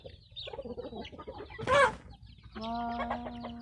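Fighting cocks cluck and squawk nearby, with one loud harsh call in the middle and a sustained crowing-like call near the end.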